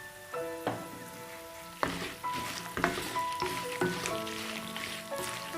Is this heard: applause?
no